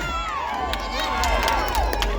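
A crowd cheers and shouts at a Muay Thai boxing match in the final round, many voices overlapping in whoops and calls, loud and continuous and building slightly toward the end.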